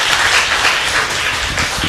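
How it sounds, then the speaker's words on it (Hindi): An audience at a religious sermon breaks into a dense, steady round of applause, loud and continuous, with no one speaking over it. "वाह, ताली बज सकती थी"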